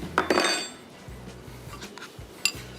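A metal pan picked up and handled in a home kitchen, giving a few short clanks and clinks near the start and again near the end, with quieter scraping contacts between and no talk.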